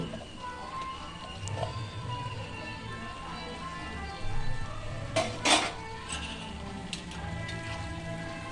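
A spoon stirs cabbage curry with fish head in a metal pan, scraping and clinking with two louder knocks in the middle, close and clear over a low kitchen hum.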